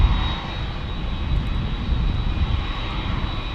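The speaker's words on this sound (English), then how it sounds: "Here's our A321 from DFW." Airbus A321 jet airliner roaring steadily overhead while plane spotting in San Diego, a loud, sustained broadband engine rush with a faint whine, no talking.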